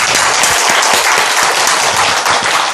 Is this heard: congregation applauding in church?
yes